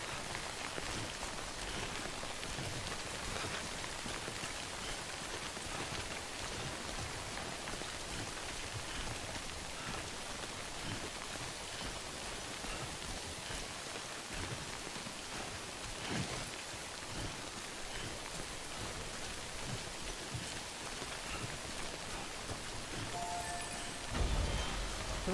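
Steady rain from the timefall weather in the video game Death Stranding, a dense continuous hiss of falling drops that stays even throughout, with a brief louder thump near the end and no talking.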